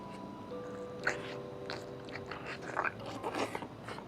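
Chewing tender boiled chicken from a whole-chicken noodle soup dish with sauce, soft close-up mouth sounds with a few moist crunchy bites, no talking.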